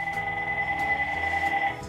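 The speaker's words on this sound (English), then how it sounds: "You know, phones ring." A telephone rings steadily with a sustained electronic trill, fairly loud and close, continuing for nearly two seconds before cutting off.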